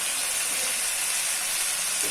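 Drumstick pieces sautéing in a hot pan for mutton dalcha, giving a steady, close, fairly loud broadband sizzle and hiss throughout with no talking.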